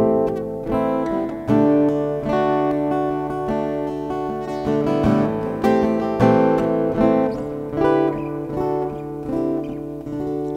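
Guitar playing the chorus passage of a song, a steady run of strummed chords and picked notes with ringing sustain, close and fairly loud with no talk.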